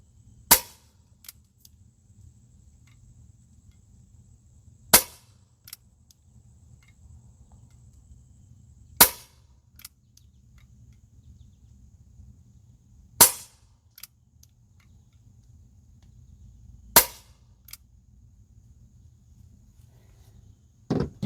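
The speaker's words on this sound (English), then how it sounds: "Here comes the first 5 shots from the pistol." Umarex Avera air pistol fired five times, each shot a sharp, sudden snap spaced roughly four seconds apart, with quiet background hum and faint clicks between shots and no talking.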